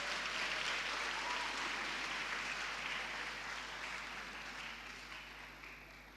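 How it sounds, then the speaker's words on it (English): A crowd at an anti-substance abuse event on the eMalahleni campus claps warmly and continuously, loud at first and slowly fading over several seconds, with no voices over it. "a warm round of applause, please"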